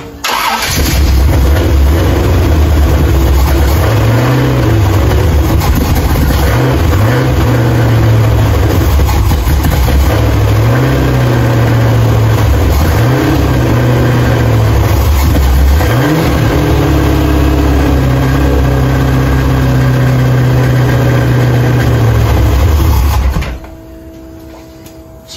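A 1968 Impala's 454 big-block engine, just fitted with new head gaskets, cranks in repeated loud starter bursts, catches and runs roughly at close range, then cuts off abruptly near the end.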